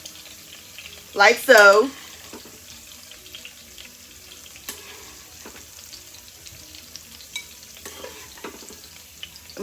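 Sautéed vegetables for Mexican rice scooped out of a pot, with soft scraping and clinking of a utensil and a faint sizzle, as a brief spoken remark comes early before the quiet scooping continues.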